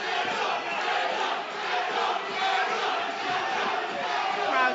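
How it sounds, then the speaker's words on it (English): A dense arena crowd at a UFC event roars and cheers for the fighters, a loud, continuous wall of voices swelling and dipping without a break. "Crowd getting behind the fighters."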